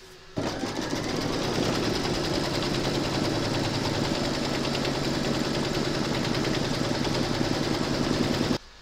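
A sewing machine runs steadily, stitching a mandala coaster with metallic thread through backing and a waterproof lining in a hoop, giving a continuous mechanical whir with a fast rhythmic pulse, close and even, with no talking.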